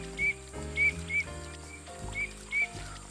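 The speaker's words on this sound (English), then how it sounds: "Let's compare for a minute to the melodic whistle of a teal." A teal gives short, high, melodic whistles, about six brief calls spaced irregularly over a few seconds against a quiet wetland background.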